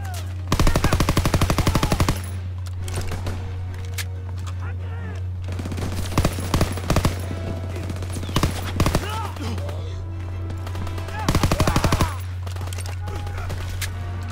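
Machine gun fire from a hayloft on D-Day in Call of Duty WW2, arriving in several loud rapid bursts over a constant low rumble of battle, with other shots scattered between the bursts.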